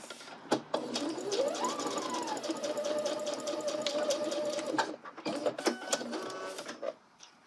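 Sewing machine stitching a seam on a colorblocked angle coat, a close, fast mechanical whir that rises in speed and runs steadily, then stops with a few clicks and a brief short burst at the end.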